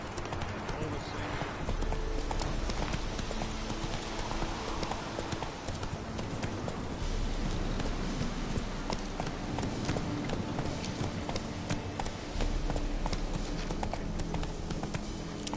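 A horse's hooves clip-clop steadily and loudly while the rider travels in The Witcher 3, a constant trotting rhythm under a continuous game soundscape, with voices talking over it at times.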